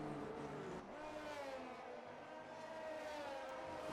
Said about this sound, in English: Alfa Romeo of Ultra Titan as he goes through the final corner